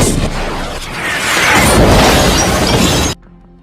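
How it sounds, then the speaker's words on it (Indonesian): A loud, roaring missile explosion with crackling debris fills the air for about three seconds, then cuts off abruptly to near silence, in the film Gemini Man. "sebuah pasukan tiba-tiba menembakkan misil ke arah mereka"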